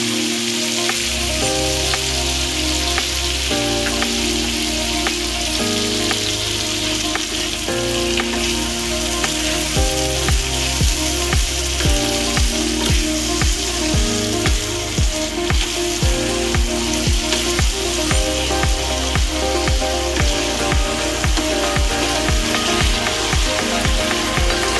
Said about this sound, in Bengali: এখন আমি সিমের বিচিগুলো দিয়ে দিব।